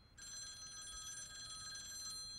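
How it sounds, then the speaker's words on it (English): An old-style telephone bell rings steadily in an animated series scene, a continuous bright metallic trill starting abruptly and holding at moderate loudness, with no voices over it. "Somebody get that phone!"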